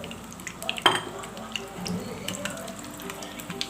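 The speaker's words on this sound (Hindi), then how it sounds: "मैं फ्राई करती हूँ, आपको दिखाती हूँ।" Potato and egg kababs fry in a pan with a steady, close, moderate sizzle, broken early by a sharp clank of a utensil against the pan.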